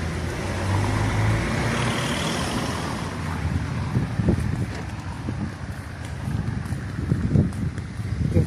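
Road traffic of cars and trucks passing close by, a loud rushing swell that fades into ongoing engine rumble with wind noise on the microphone.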